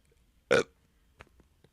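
A single loud, close burp erupts abruptly, then a few faint small clicks and breaths follow in an otherwise quiet room.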